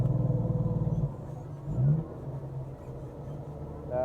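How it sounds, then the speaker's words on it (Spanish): Tractor-trailer engine brake on a downhill descent, a deep rapid pulsing rattle for about a second, then a lower steady diesel rumble with a brief rising growl, moderately loud and close. "ahí le activamos el freno de motor"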